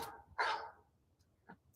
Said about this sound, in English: his phone started barking